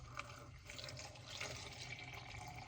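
Water poured into a pot over plantain pieces for plantain fufu, a steady continuous splashing and trickling fill that runs the whole time at moderate level, close by, with no talk.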